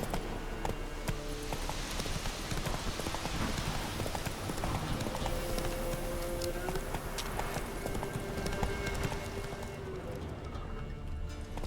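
A horse trots in The Witcher 3 video game, its hooves clip-clopping in a quick, steady rhythm throughout, fairly faint under a soft outdoor ambience.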